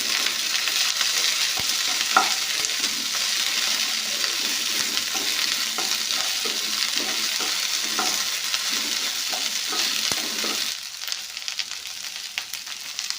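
Peanuts are stirred in hot oil in a pan, with a steady bed of crackling sizzle broken by scattered scraping strokes. It runs close and moderately loud with no voices.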